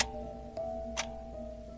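A clock ticks softly at night in a quiet room, with a few sparse ticks over a steady low hum.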